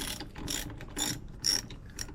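A ratchet with a 10mm socket removes the battery cover on a Toyota Tacoma, producing several short, close bursts of rapid metallic clicking separated by brief pauses.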